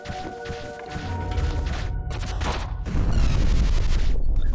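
A large video game explosion builds into a heavy, roaring boom with deep rumbling and crashing debris, loud and close.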